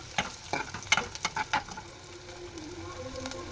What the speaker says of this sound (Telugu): ఉల్లిపాయ వేగిన తర్వాత కరివేపాకు వేసుకుంటాను